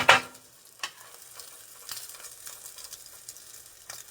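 Salmon croquettes fry in a hot, lightly smoking skillet with a steady low sizzle, close and soft, and a few sharper clicks and scrapes, with no talking.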